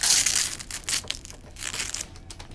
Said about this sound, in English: Let's peel this off.